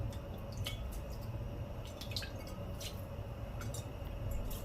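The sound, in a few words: water poured over vermicelli in a pan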